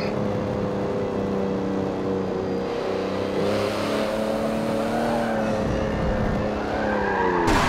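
In Forza Motorsport 7, a car loses control and skids. Engine tones waver and bend while tires squeal in a long, sliding wail, ending in a sharp rising pitch.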